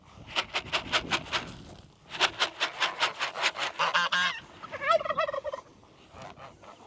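Geese and turkeys on a farm honk and gobble in a rapid, loud burst of repeated calls at feeding time, a dense chorus of close squawks overlapping before tapering off.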